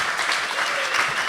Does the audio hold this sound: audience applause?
yes